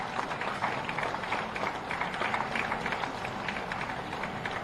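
Applause for honoured teachers at a ceremony held by the Chief Minister, steady crowd clapping at moderate distance, dense and even throughout.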